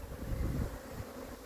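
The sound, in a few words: bees buzzing at beehives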